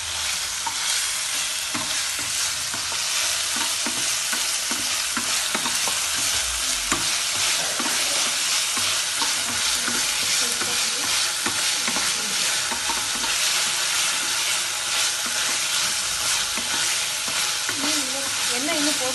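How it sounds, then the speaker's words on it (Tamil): Ginger garlic paste being stirred and sautéed in oil in a pan, a continuous loud sizzle with repeated scraping stirs throughout, no voices. "இப்போ வந்து இஞ்சி பூண்டு பேஸ்ட். இப்போ இது வந்து நல்லா வதக்கிக்கலாம்."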